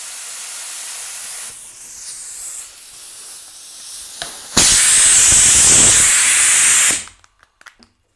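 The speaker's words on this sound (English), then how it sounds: "my compressor can provide enough air to run this spray gun" A paint spray gun on compressed air starts with a hiss, then a loud steady spray blasts for a couple of seconds and cuts off abruptly, leaving a few faint clicks.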